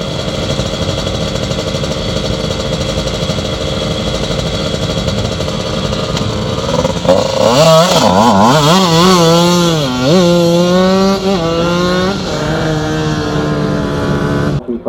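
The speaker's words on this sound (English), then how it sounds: "This is Andrew Mason on his little CR125 Honda motocrosser." A Honda CR125 two-stroke motocross bike races up a tarmac hillclimb course, its engine screaming loud and close, the pitch rising and falling sharply through gear changes as it passes.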